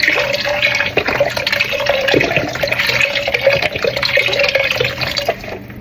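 Beef broth poured into a cooking pot with braised short ribs, a loud continuous splashing gush of liquid lasting several seconds, close up and alone.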